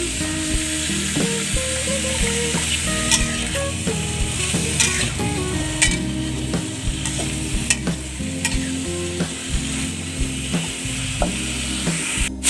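Bitter melon stir-fried with chili in a pan, a steady loud sizzle with scraping and clanking of a spatula against the pan throughout, no talking.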